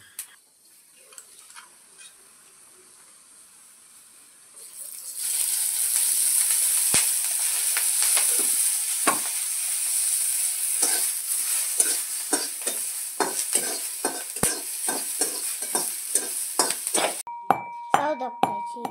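Green chillies frying in hot oil in a kadhai while being stirred, a steady loud sizzle starting after a quiet opening, with repeated scraping and clinking of the spoon against the pan.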